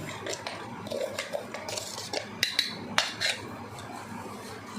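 Powdered mishri rock sugar is sieved in a kitchen, with light metallic taps and scraping clinks of a sieve and utensil, close and irregular.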